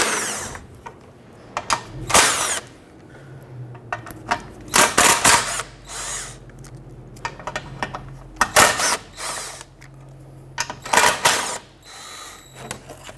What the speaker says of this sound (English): remove the series of 10mm bolts around the perimeter